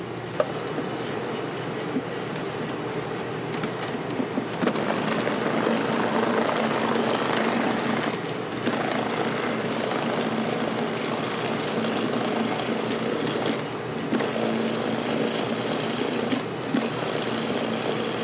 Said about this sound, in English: If you have a KitchenAid type mixer, that is best for this job.